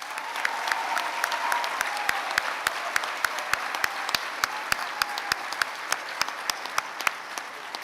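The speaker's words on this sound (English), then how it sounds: "Let's give them a round of applause." A graduation ceremony audience claps steadily, a dense wash of many hands with a few louder individual claps punctuating it throughout.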